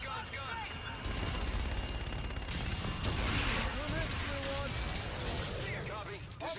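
Aircraft gun run in the Call of Duty: Infinite Warfare mission Black Sky, a dense, loud stretch of rapid heavy gunfire and booming impacts, with radio voices talking over it.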